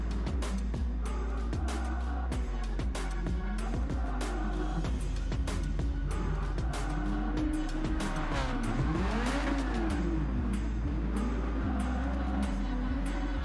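Race car in a junior racing video game spinning out on a turn with sausage curbs, engine droning and shifting pitch while tires squeal and skid, loud and continuous, with faint talk underneath.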